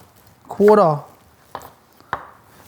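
Knife cutting radishes on a board for a salad: a few sharp, separate chops spaced apart, close and clear, following a short burst of speech.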